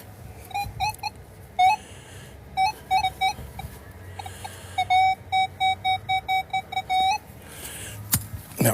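Metal detector responding over a buried coin that reads like a dime, giving a series of short, clear electronic beeps in an uneven then faster rhythm over low outdoor background noise, close and alone with no talk.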